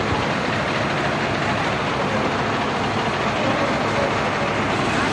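A Swaraj 735 tractor engine runs steadily at close range, a loud continuous broadband rumble with no talk, while backing a dumper loaded with soil along a rough, dangerous track.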